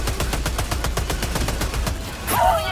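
Laser tower turrets in Helldivers II firing a rapid, steady stream of evenly spaced loud shots that ends with a rising whine and a burst.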